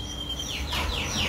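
Birds in a finished aviary call out, a few clear downward-sweeping chirps repeating in quick succession over a steady background hum, moderately close and without talk.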